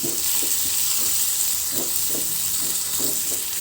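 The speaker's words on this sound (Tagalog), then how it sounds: "Yan, medyo lutuin natin ang kamatis." Tomatoes fry in a pan with a steady, bright sizzle and hiss that runs throughout, with soft stirring scrapes underneath, close and even, no talk.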